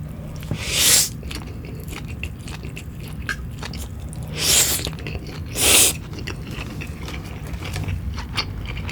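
Someone eats jjapaghetti black-bean noodles with lots of pork, with close chewing and slurping and a few louder hissing slurps standing out over a steady background.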